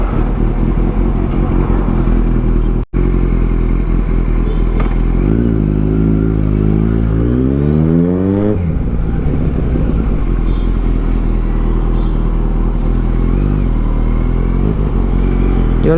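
Kawasaki Z900 motorcycle, just serviced, riding on the road: a loud, close engine drone with a brief cut, then rising revs and gear changes before it settles into steady cruising.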